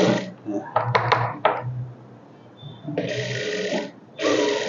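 A sewing machine stitches a chudidar in short bursts of steady mechanical whirring separated by pauses, with handling clicks and fabric rustle between runs.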